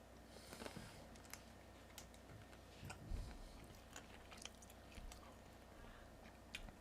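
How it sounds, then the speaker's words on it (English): Someone munches and crunches food close to the mic, with soft irregular chewing and occasional sharper crunch clicks over a quiet background hum. "We'll have some music going on along with me munching, and you guys hearing the crunches probably."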